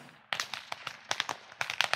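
Traditional Goaßl whip cracking in the Seewinkel countryside, a long whip with a tail piece producing sharp, loud cracks in a quick irregular series of about a dozen snaps, some doubled, with no talking.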